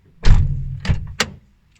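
A Toyota Corolla door is shut with a solid thud, followed by two more quick knocks and clunks in close succession, near and fairly loud, with no one talking.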